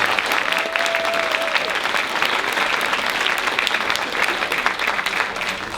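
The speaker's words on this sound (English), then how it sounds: "Let's give our Miss Dogwood contestants one more round of applause." An audience applauds the Miss Dogwood pageant contestants at the 2019 Quitman Dogwood Pageant, dense sustained clapping from a crowd with a brief whistle near the start, steady and loud for the whole stretch.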